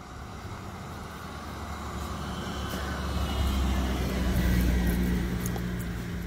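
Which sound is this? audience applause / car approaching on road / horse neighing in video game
car approaching on road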